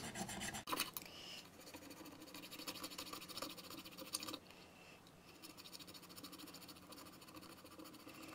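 Filler is planed down on a chipped ceramic snowman plate, giving close, quiet, steady scraping and rasping strokes with a sharp knock near the start.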